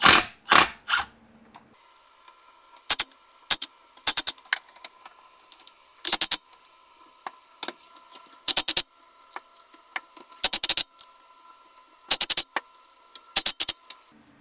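A socket wrench loosens the bolts on a Ford Mustang's rear axle cover in a garage, giving sharp metallic ratchet clicks and clanks in short irregular bursts separated by quiet gaps, close and fairly crisp.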